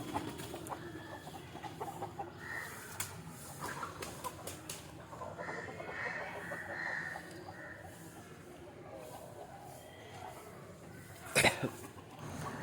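Country chickens cluck and murmur steadily at moderate distance over a low background hum, released from a coop in the morning, with one sharp louder bird call near the end.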